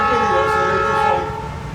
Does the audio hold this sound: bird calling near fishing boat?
no